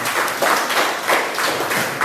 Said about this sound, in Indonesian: Oke, tepuk tangan sebelumnya untuk Bang Marhaban.